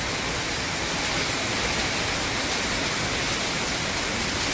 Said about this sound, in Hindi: हल्की हल्की बारिश भी हो रही है